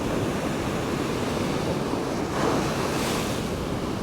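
Ocean surf at Peggy's Cove rolls against rocky shore in a steady, loud roar, with wind buffeting the microphone and a slight swell of crashing water midway.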